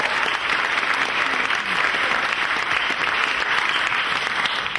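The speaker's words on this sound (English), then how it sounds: "Give Carol a round of applause" An audience at a comedy magic show applauds, with dense, steady clapping that holds at an even level throughout and no voices on top.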